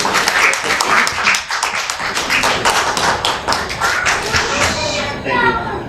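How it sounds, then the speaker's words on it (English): A crowd claps steadily in dense applause, loud and close, with scattered voices underneath. "So big round of applause for Rohit sir."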